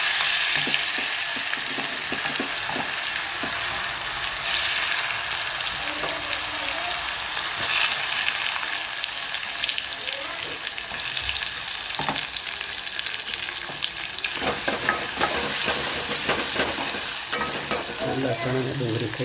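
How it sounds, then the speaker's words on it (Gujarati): Garlic and onion with green chilies fry in a pan, giving a continuous rain-like sizzle up close, broken by occasional spoon scrapes and stirring clatter. "લસણ અને ડુંગળી થઈ જાય એટલે ટામેટાં નાખ્યા છે"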